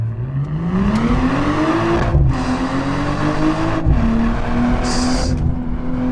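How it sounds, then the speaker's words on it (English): Loud BMW M240i engine revving up through the gears, exhaust droning and rising in pitch with brief dips at each shift. "The engine sound is good. The exhaust note is good."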